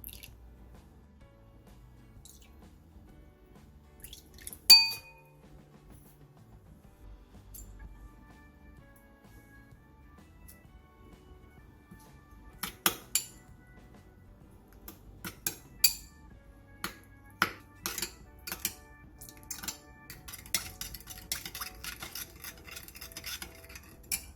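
A spoon stirs a seasoning mix of oyster sauce, soy sauce, plum extract, soju, sugar, minced garlic, ginger and cheongyang chili in a bowl. It is mostly quiet at first, then faint, scattered clinks and taps grow busier in the second half.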